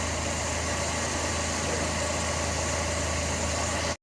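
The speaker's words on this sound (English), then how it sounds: "right out of the gate, it runs. It's idling." A carbureted Chevrolet Z24 engine with a Weber carburetor swap idles steadily with a constant low rumble and even vibration, close by, then cuts off abruptly at the very end.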